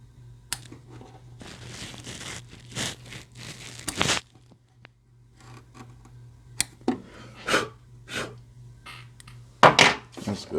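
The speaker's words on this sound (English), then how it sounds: "I am going to stop it real quick just to cut these jump stitches" Jump stitches are snipped from an embroidered patch on a Brother PE800 machine, heard as a scattered series of close, crisp snips, rustles and light crinkles at irregular intervals over a low steady hum.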